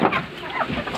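Native parent-stock chickens cluck and squawk together as they crowd for food, a busy overlapping chorus of close, loud clucks filling the whole moment.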